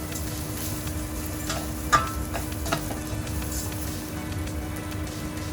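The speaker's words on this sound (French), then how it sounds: "une fois que vous entendez justement le riz chanter, craquer" Rice and onions sizzle steadily in a pan as they are stirred together, a low continuous frying hiss with a few soft scraping clicks from the spoon, close and moderately quiet.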